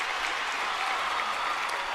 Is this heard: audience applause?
yes